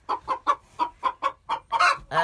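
Farm chickens clucking close by, a rhythmic run of about nine short, distinct clucks at an even pace, the last couple louder and more drawn out, with no other sound.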